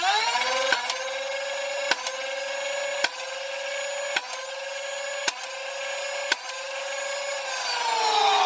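A modded Nerf Stryfe flywheel blaster fires test shots outdoors: a steady motor whine runs throughout, broken by six sharp, evenly spaced shot clicks about a second apart.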